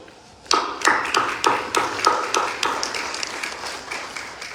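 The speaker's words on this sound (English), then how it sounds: "may we give them a round of applause" A small group claps for ambassadors at a press briefing on the AU-led Ethiopia peace talks, sharp individual hand claps rising at once and then thinning gradually into a few sparse taps in a quiet room.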